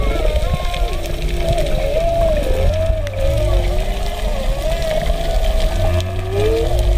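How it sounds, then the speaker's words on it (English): Whale calls picked up by a hydrophone from a boat at the Great Barrier Reef rise and fall in long, loud moaning swoops over a heavy low rumble of water and engine noise. "they've got hydrophones on the boat so they can listen to the whales"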